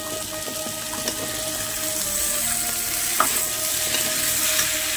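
Drumsticks and boiled jackfruit seeds being stir-fried in a pan for a Bengali curry, with a steady broad sizzle and occasional scrapes and knocks of stirring, close and continuous with no talking.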